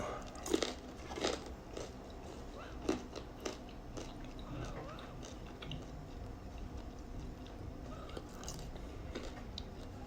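Someone bites and chews crunchy Trader Joe's fries up close, with sharp crisp crunches early on giving way to softer, quieter chewing and faint ticks.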